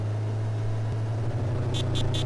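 A steady, low car engine drones at a constant pitch and wavers slightly toward the end, with a few short high beeps near the finish.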